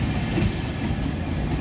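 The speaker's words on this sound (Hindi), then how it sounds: "तो दोस्तों ये था 11:58 का राजपुरा से डिपार्चर" Train pulling out of Rajpura station on the Dadar Express route, a steady low rumble of rolling coaches with faint clickety-clack from the wheels, continuous and close throughout.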